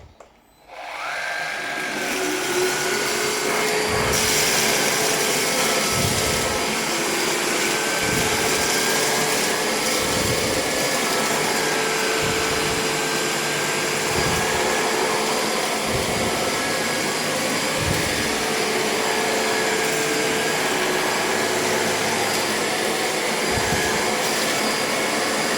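A handheld cordless vacuum cleaner runs continuously after a quick start-up, a loud steady whine with faint periodic thumps beneath it as it cleans a tabletop.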